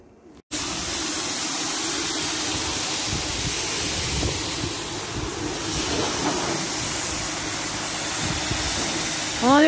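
Pressure washer spray rinsing a camper van, a loud, steady rushing hiss that starts abruptly after a short quiet moment and holds throughout, with a brief voice near the end.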